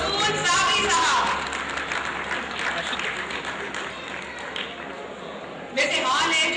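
An audience at an award show bursts into a long round of applause for an award recipient, a steady roar of clapping from a sizeable crowd that holds throughout and swells again near the end, with some voices mixed in.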